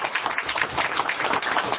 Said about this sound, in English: I want to give our superintendent a round of applause.